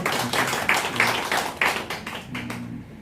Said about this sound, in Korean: 박수로 감사를 할까요?